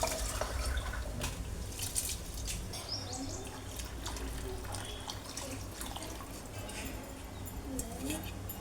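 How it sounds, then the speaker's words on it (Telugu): Rice-soaking water poured into a pot while making tomato rice, a soft splashing and trickling under a voice talking, fairly quiet throughout. "ఇప్పుడు ఈ వాటర్ పోసేసుకోవాలన్నమాట"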